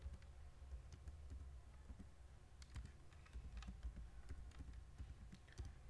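Computer keyboard typing in a Linux setup session, a steady run of quiet, close key clicks against a low background hum, with no talk.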